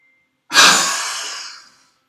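A single deep exhale during a yoga class, a loud, breathy rush of air that starts abruptly, then fades steadily over about a second, close and alone with no talk.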